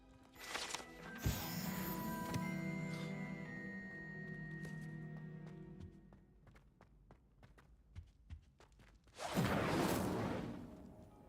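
A fire spell cast in Hogwarts Legacy gives a bright whooshing burst near the start, then light taps and clicks, and a second loud roaring flare toward the end.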